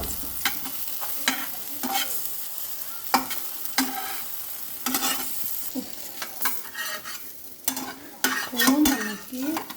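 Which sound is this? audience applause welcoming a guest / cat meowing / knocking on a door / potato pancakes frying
potato pancakes frying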